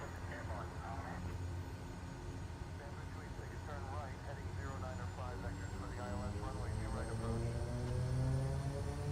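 A Kodiak 100 aircraft engine holds a steady high idle in Microsoft Flight Simulator 2024, a continuous droning hum with a faint rising whine, while someone talks over it.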